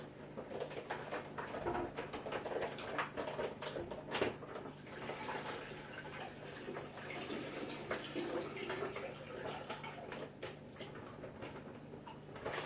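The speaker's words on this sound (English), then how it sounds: "All he's doing is taking tap water. Show him over here. All he's doing is shaking." Tap water sloshing and splashing as a wine carboy is shaken to rinse out sediment and leftover juice, continuous and close with irregular surges.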